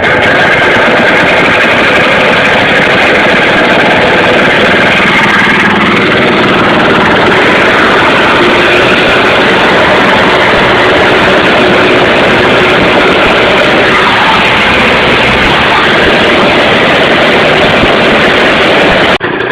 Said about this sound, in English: I just love that idle. It would just keep going